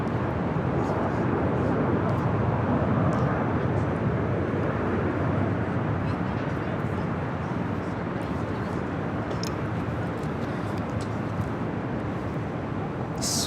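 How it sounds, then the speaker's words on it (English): An Alaska Horizon Embraer E175 airliner arrives at LAX from San Jose, heard as a broad, steady rumbling roar at moderate distance that stays fairly even across the whole stretch, with faint sporadic ticks over it. "Next arrival here on the north side is Alaska Horizon Flight 2235 coming in from San Jose,"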